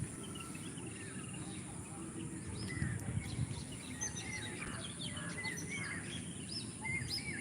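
Many small birds chirp and twitter in varied, overlapping calls outdoors among garden plants, faint and continuous against a steady rustling background with insect buzz, no voices present.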